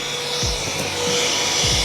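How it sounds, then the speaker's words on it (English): A small vacuum cleaner sucks up loose styrofoam bits while an electric scooter is being unboxed, giving a steady, close whooshing drone that holds at an even level throughout. "sucked up most of the foam with the vacuum"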